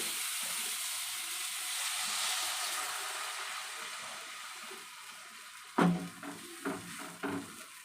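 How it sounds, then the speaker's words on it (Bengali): Water poured onto chicken frying with salt and turmeric gives a steady hissing sizzle and rush, followed by a few loud stirring scrapes and knocks in the pan near the end. "লবণ হলুদ দেওয়ার পরে একটু হালকা নাড়াচাড়া দিয়ে নেব। এবারে দিয়ে দেব জল।"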